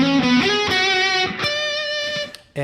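An electric guitar driven through a Boss DS-2 Turbo Distortion pedal plays a sustained lead line with a few picked notes and one long held note, loud and close, heavily saturated with rich harmonics.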